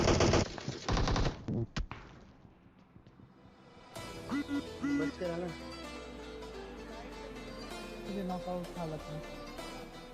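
Gunfire in a mobile battle royale game, with an MK rifle among the weapons: bursts of rapid automatic shots up close, a pause, then game music and further scattered fire in the background.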